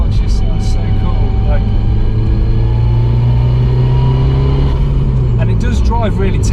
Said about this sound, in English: The gearbox just sounds so cool.